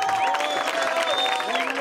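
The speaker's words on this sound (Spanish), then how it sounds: "yo creo que un aplauso para ellos" Audience applause at an awards ceremony for a stand-up paddleboard festival in Isla Cristina, a dense, steady clapping from a crowd lasting under two seconds, with a loud voice carrying over it.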